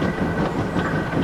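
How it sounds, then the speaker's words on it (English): Simulated steam train with old coaches rolls along in Trainz Simulator 2019, a steady, dense rumble of wheels and carriages close by with no pauses. "At once, he coupled the old coaches to Henry's train and took Annie and Clarabelle away"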